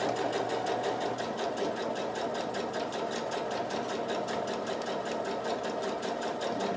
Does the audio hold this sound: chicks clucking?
no